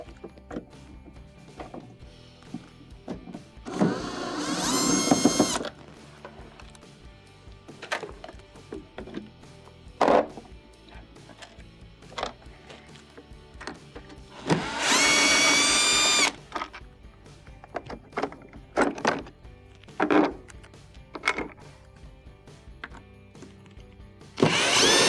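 Phillips screws being backed out of a GE refrigerator cover with a power driver, two long whirring bursts among small clicks and handling taps, close and fairly loud.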